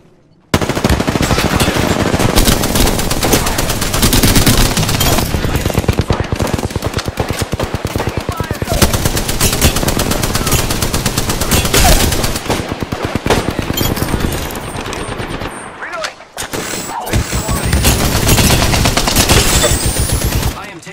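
Sustained automatic gunfire from an Apex Legends firefight in a market area, loud and continuous with dense rapid bursts, a brief lull near the end before the shooting resumes, game voice lines faintly under it.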